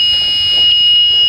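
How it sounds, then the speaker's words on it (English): A dashboard warning buzzer sounds on a school bus with the key switched on, giving a steady, loud, high-pitched electronic whine that continues unbroken throughout, with no voices. "I'm sorry for the buzzing noise."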